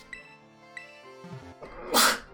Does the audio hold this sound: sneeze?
yes